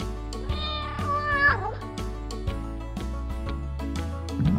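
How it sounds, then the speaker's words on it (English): A cat meows several times, one drawn-out wavering call standing out, over a busy musical background. "Oh, it's the orange cat."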